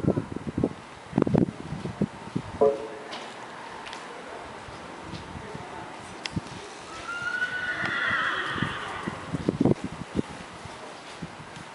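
An Appaloosa horse working a trail obstacle class at a horse show gives a clear whinny midway, surrounded by scattered hoof thumps and clatter against a quiet outdoor background; no one speaks.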